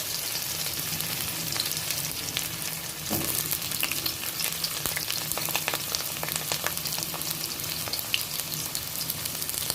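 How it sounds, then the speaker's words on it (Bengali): Pieces of pointed gourd (potol) fry in mustard oil, a continuous moderate sizzle and crackle with occasional light clicks of a stirring utensil, no voices. "পটলগুলো দিয়ে দিচ্ছি তেলের মধ্যে।"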